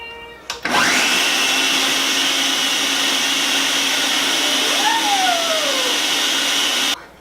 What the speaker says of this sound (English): our sweet potato mixture is blended up